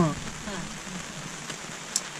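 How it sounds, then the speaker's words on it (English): Steady light rain in the Kgalagadi patters continuously in the background, a soft hiss with occasional sharper drips, while someone speaks briefly at the start. "it's raining again. But it's not very hard. Hear the rain."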